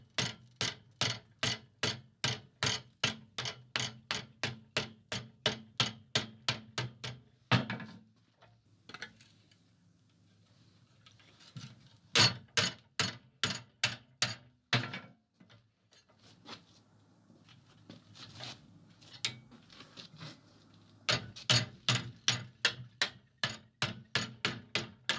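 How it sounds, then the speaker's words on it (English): Metal for a fireside set tool is hammered down while clamped in a vise in a forge workshop: runs of sharp, evenly spaced hammer blows, loud and close, broken by short pauses and lighter taps. "I'll clamp this in the vise and bend it down."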